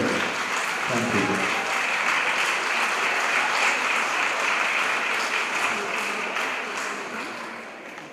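A crowd at a preparatory school graduation ceremony gives a long, steady round of applause, full and continuous for about eight seconds before gradually tapering off.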